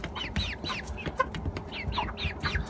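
Hens clucking in a backyard coop, a rapid run of short, overlapping clucks and calls from several birds close by, steady throughout with no talking.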